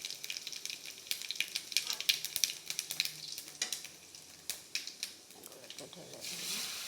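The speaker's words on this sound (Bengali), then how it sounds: "মিডিলে জায়গা করে পাঁচফোড়ন দিয়ে সম্বার দিয়ে নিচ্ছি।" Panch phoron spices crackling and spitting in hot oil, brief sharp pops over a steady soft sizzle, close and fairly quiet.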